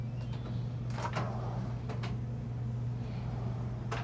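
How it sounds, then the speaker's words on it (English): A full extension silverware drawer in a Newmar New Aire 3547 motorhome kitchen glides along its runners with soft sliding rumbles and a couple of light knocks over a steady low hum. "nice full extension drawer glide, a silverware drawer"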